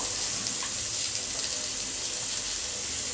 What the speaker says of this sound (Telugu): ముందు వేయించుకుందాము ఉల్లిపాయలు మెత్తబడిపోయాయి